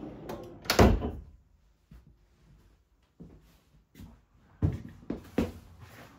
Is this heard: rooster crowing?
no